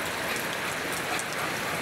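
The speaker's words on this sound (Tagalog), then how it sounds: "malakas lang talaga yung ulan" Heavy rain pours steadily during a typhoon in Bulacan, a dense even hiss with no break or voices across the short stretch.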